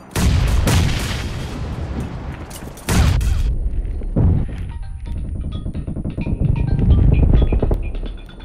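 Bomb explosions in a multiplayer video game: a few loud, close booms with rumbling tails, then a stretch of quieter rapid mechanical clatter and game effects.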